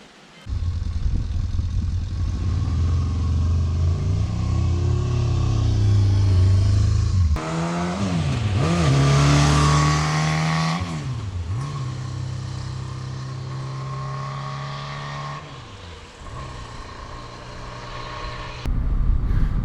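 A 500 Yamaha XT 500 motorcycle rides along the road, its engine droning loudly up close with rising and falling revs through gear changes and a brief drop in the middle.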